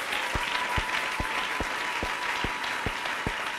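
A church congregation at a Sunday service claps in a steady, even rhythm under a bed of voices crying out in acclaim, the sharp claps landing roughly every half second.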